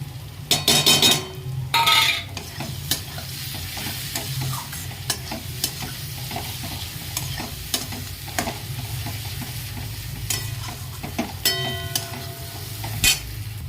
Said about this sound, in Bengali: এবারে পেঁয়াজে দিয়ে দিচ্ছি জিরে গুঁড়ো, ধনে গুঁড়ো, শুকনো লঙ্কা গুঁড়ো আর কাশ্মীরি লঙ্কা গুঁড়ো